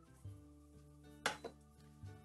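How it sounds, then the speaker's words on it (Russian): A metal frying pan is picked up, clanking once against a hard surface with a brief rattle, close and fairly quiet, amid faint low humming. "Берем сковородку."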